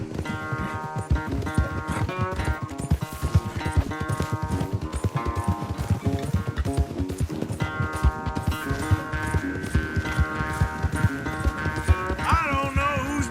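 Galloping horse hooves pound in a fast, steady rhythm during a horse race in the video game Red Dead Redemption 2, close and continuous over a layer of tonal game sound.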